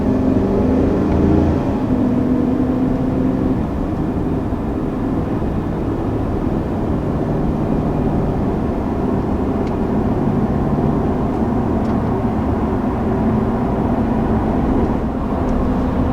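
A steady, loud engine drones and rumbles without pause as a 2020 Chevy Silverado 1500 Trail Boss pickup accelerates hard, heard from inside the cabin, with no voices.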